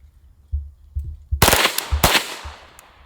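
A gun bump-fires by accident, sending a quick burst of several sharp shots at close range. Soft clicks come before the burst and one more faint pop follows it.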